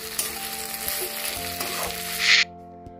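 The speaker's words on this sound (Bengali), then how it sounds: "আলু, পেঁয়াজ, টমেটোর সাথে পোস্ত, রসুন আর কাঁচা লঙ্কার পেস্টটা ভালো করে ভাজা হয়ে গেছে।" A paste of poppy seed, garlic and green chilli fries in a pan with potato, onion and tomato, giving a steady crackling sizzle with occasional stirring scrapes before the sound cuts off sharply near the end.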